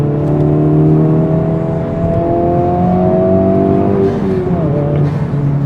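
A Honda Civic Type-R accelerates with a steady engine drone whose pitch rises smoothly, loud and close throughout, with no talking over it.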